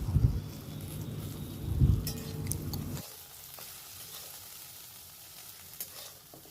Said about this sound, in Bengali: একটু সময় ধরে ভেন্ডিটাকে ভাজতে হবে।